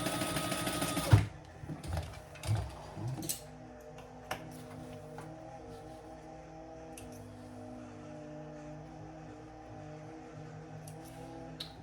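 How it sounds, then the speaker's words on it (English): A sewing machine stitches bag lining pieces together along the seam allowance. A loud, dense run of stitching opens the clip, then gives way to quieter, intermittent mechanical ticking and clicks close by, with no one talking. "we're going to sew that together at the seam allowance"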